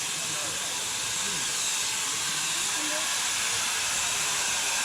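A train on a tour at the Pioneer Coal Mine lets off steam in a loud, continuous hiss that holds steady for the whole clip, with faint voices underneath.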